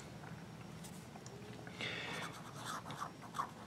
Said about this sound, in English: You might hear the nib on the paper.